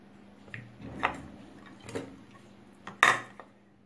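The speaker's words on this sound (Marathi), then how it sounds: "आता मी छोटा कुकर घेतले, त्याच्यामध्ये मी सर्व कारली टाकून घेणार आहे" Bitter gourds are dropped into a small pressure cooker with oil and a little water, giving four or five separate metallic clinks and knocks, close and fairly quiet, with the last one the loudest.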